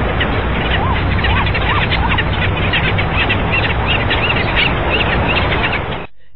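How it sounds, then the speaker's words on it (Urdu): Flock of skimmer birds calling back and forth, a dense chorus of nasal yelping and barking cries over steady background noise, many birds at once, no voices. "اسکائمر ماہی بر طرح طرح کی آوازیں نکال کر ایک دوسرے سے رابطے میں رہتے ہیں"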